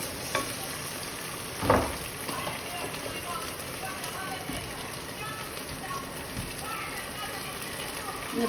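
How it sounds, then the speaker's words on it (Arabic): Tomato paste frying in hot oil in a pot on the stove for Iraqi okra stew, giving a steady, close crackling sizzle broken by a loud stirring scrape and a few softer knocks. "حطينا بيه زيت، حمسنا خلينا الزيت يتفرقع وراح نحط المعجون نحمسه بالزيت."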